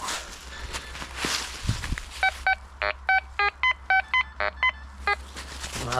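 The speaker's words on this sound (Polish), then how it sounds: "Jakiś żelazny chyba sygnał." A run of short, evenly spaced electronic beeps from a metal detector signalling iron, about a dozen tones in quick succession, follows some rustling and scraping outdoors in winter.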